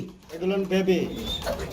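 Low, throaty coos from blue bar and black pigeons rolling in a few soft bursts, close by, with a faint voice-like murmur in the background.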